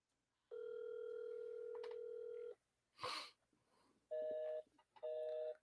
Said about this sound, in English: I'm going to give Sydney a call and get the show on the road